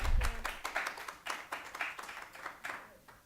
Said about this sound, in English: we'll give Abbey and Gina a round of applause